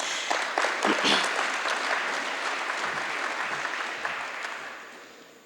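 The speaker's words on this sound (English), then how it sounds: "Let's give him a round of applause." Audience applause at a one-year anniversary ceremony for a helicopter company in Guyana, a full burst of clapping that swells early, then holds steady before gradually tapering off.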